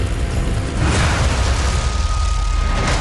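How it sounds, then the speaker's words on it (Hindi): A Cheetal army helicopter at the Siachen glacier base camp roars steadily, loud and close, a continuous broadband engine and rotor drone with no talk over it. "यानी ये वो हेलीकॉप्टर हैं जो सियाचिन में सैनिकों की लाइफ लाइन कहलाते हैं।"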